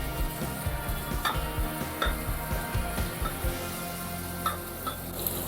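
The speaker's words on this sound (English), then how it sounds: "I'm going to saute the onions until they turn nice golden brown." Sliced onions sautéing in ghee and oil in a pan, a steady close sizzle broken by scraping stirs and light clinks of a utensil against the metal, with no voices.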